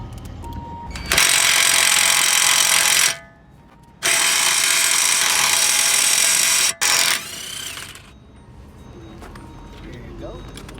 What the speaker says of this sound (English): we're going to use an impact wrench to remove the axle nut from the hub